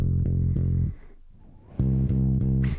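Deep, dry bass notes pulse in a steady pattern, pause briefly, then resume; close and fairly quiet, no voices.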